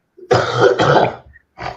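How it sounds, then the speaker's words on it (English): A short burst of harsh throat clearing rolls into a couple of coughs, then a brief pause and one more rough cough, close and fairly loud. "I'm starting to cough"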